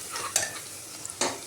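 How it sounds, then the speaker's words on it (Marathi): Onion frying in a pan until golden brown, a soft steady sizzle with two sharper scrapes of a spoon stirring it, quiet and close. "कांदा छान भाजून घ्यायचा, चांगला गोल्डन ब्राऊन कलर आला पाहिजे कांद्याला"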